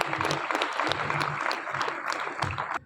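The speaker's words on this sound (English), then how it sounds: "Everyone, please give them another big round of applause." Applause from a school audience at a Republic Day celebration after a teachers' song, moderately loud clapping over a few seconds with voices underneath, ending abruptly.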